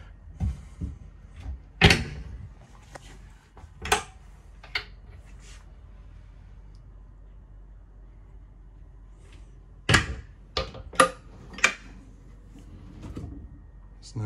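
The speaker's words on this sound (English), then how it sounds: "No jerking on the drawers, it all just opens and closes beautifully." Drawers and wardrobe doors inside a Latitude Element 27 motorhome on an Iveco Daily open and close in a scattered series of sharp knocks and soft slides, with quiet pauses between.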